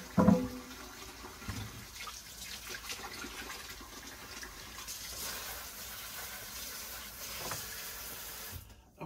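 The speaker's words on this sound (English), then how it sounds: "I'll wash off my carrots" Celery and carrots rinsed under a running kitchen tap, a steady wash of water with faint splashing, fairly close, running throughout with a brief sharper knock at the start.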